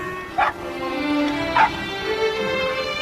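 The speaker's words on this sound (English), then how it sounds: "That's my dog." A dog in a comedy film gives two short high yips amid a whimpering, whining tone over a steady background hum of a movie soundtrack.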